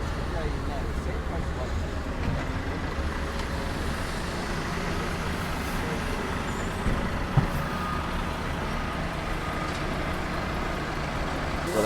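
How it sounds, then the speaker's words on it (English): A lorry tips its load at a ship loading dock on an Irish riverside, a steady dense rumble of heavy machinery and engines with faint reversing beeps and brief louder knocks, while a person speaks over it. "So there's another lorry just tipped the load."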